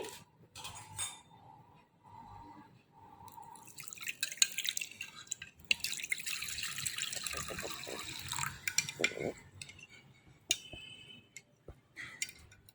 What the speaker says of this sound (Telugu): ఈ ప్యాకెట్ మనం వాటర్లో కలుపుదాము.